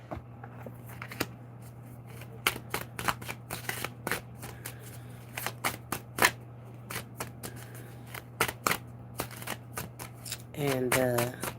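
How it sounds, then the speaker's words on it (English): A deck of tarot cards is shuffled by hand in a quiet room, with a long run of crisp riffling bursts and soft snaps over a low steady hum, followed by a brief voice at the end. "I'm going to start on this shuffling now."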